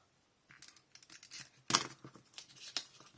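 Scissors snipping through paper or ribbon during a craft project, a few quick crisp cuts with one sharp loud snip in the middle, close and alone amid light rustling.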